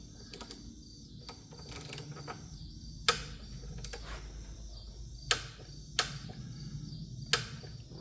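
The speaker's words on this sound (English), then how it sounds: "then we'll get the torque wrench on it. I got it set to 180 inch-pounds" Ratcheting clicks from a torque wrench tightening a spark plug on a 2018-or-later Mustang GT, set to 180 inch-pounds; sharp, separate clicks come every second or so over a quiet garage background, close to the microphone.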